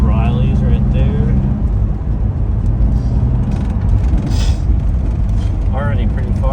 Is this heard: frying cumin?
no